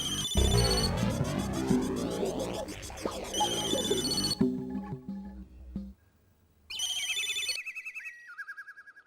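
A phone rings unanswered in a Hindi serial scene, a loud electronic ringtone chiming repeatedly, cutting off, then resuming with a stepped melodic pattern.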